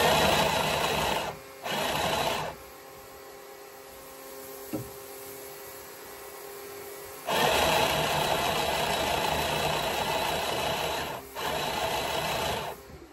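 A small sewing machine whirs in steady bursts, stopping and starting several times with quiet pauses between runs, close and fairly loud.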